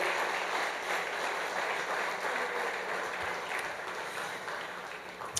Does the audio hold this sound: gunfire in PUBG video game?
no